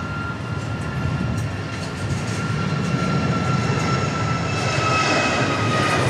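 A Southwest Airlines jet departs Dallas Love Field with a steady, loud engine roar that holds and builds slightly over several seconds, with no voices.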